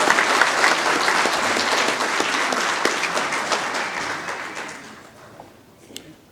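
Audience applause at a community foundation's first annual Founders Day dinner, a loud, dense burst of clapping from a crowd that gradually thins and fades out over several seconds, ending with a few scattered claps.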